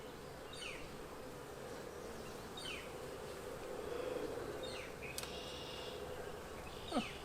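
Honey bees hum in a dense, continuous buzz at an open hive, heard close and fairly quiet, with occasional faint bird chirps in the background.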